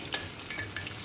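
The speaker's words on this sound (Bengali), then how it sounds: "ভাজা হবে, আস্তে আস্তে মশমশা হয়ে যাবে।" Marinated quail frying in a pan over medium heat, a soft steady sizzle with faint crackles, quiet and close, with no talking.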